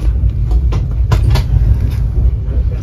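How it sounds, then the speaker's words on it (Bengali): Tejas Express 22119 on the Mumbai to Goa route rolls into Chiplun station, heard as a loud, close, continuous low rumble from on board with a few faint rhythmic clicks from the rails. "ট্রেন এখন চিপলুন ঢুকছে।"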